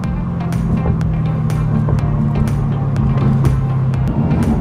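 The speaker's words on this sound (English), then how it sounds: "this is the freeway noise right now" Steady road noise with a low drone and a hum that holds for a few seconds, like traffic rushing past on a busy highway.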